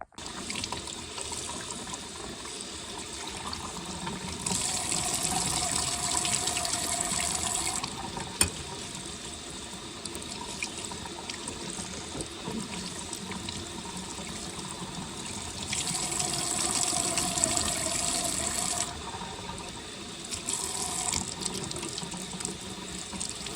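Tap water runs into a sink while bean-dyed yarn is rinsed, a steady rushing stream that swells louder in two long stretches, with no voices.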